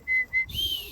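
A person whistles to call pet birds home: two short, clear, high notes in quick succession, then a longer held whistle over a faint breathy rush, close and fairly loud.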